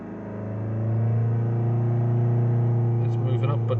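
A Ford Kuga engine with an intermittent DPF particulate filter pressure sensor fault, held steady at 2000 rpm, gives a continuous low droning hum that builds over the first second and then stays level and close.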